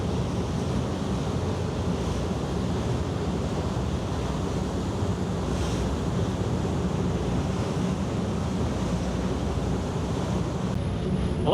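Steady wind buffets the microphone over constant wave and water wash aboard a boat crossing Sydney Harbour near the entrance at dusk, loud and unbroken for the whole stretch, no voices.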